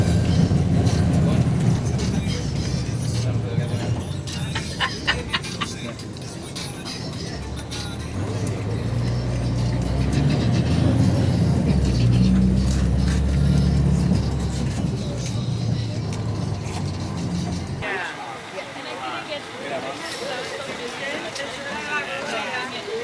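A city bus riding through Jerusalem, its steady low engine rumble and road noise droning for most of the clip before dropping away near the end, with voices over the ride.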